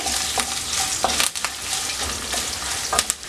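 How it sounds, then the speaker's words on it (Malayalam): Coconut pieces fry and sizzle in a pan for a soya chunks roast, with steady crackling broken by several sharp stirring scrapes of a spoon against the metal. "തേങ്ങാക്കൊത്ത് നല്ലപോലെ ഒന്ന് മൂത്ത് വരട്ടെ"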